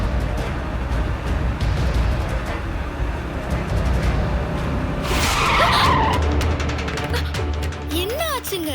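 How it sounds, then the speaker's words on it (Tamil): Car braking hard with tires skidding, a loud squeal rising over steady road and engine noise, followed by short squeaks as it comes to a stop; faint voices in the background. "ஏன் திடீர்னு கார்ல இப்படி பிரேக் போடுறீங்க?"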